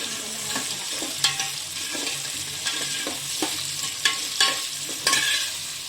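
Beans tossed into a cooking pan for a Tirunelveli coconut milk sodhi and stirred, a soft continuous sizzle broken by repeated scraping clinks of the spoon against the pan, close and alone.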